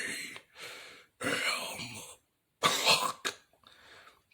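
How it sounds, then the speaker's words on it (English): Several harsh, wet coughs in separate bursts, close and fairly loud, with short pauses and a strained breath between them. "The behemoth coughed up more blood, unable to finish his sentence."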